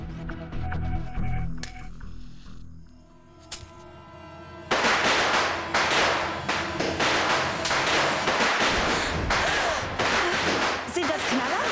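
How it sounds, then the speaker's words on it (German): Firecrackers set off in a TV drama scene, a rapid run of sharp cracks and bangs after a quieter stretch, loud and dense. "Halt den Mund und zünd endlich die Böller an."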